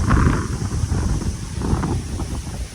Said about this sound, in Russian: Ветер, конечно.